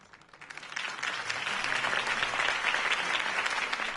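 Video game crowd bursts into steady, dense applause that swells after a quiet start and holds at a full, even roar of clapping.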